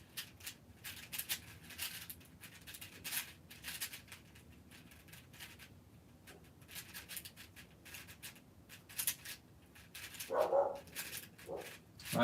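Dogs barking at home, a few scattered, fairly faint barks and yelps heard at a distance against a quiet room background, with no talking.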